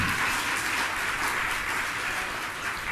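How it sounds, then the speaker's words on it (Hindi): An audience at a Jain religious discourse gives a steady round of applause, a dense wash of clapping that holds evenly for a few seconds with no one speaking over it. "इतने ढीली ताली जम के दो"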